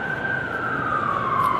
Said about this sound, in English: sorry, there's a siren.